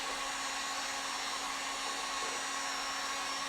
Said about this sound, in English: I'm just gonna hit this with a heat gun.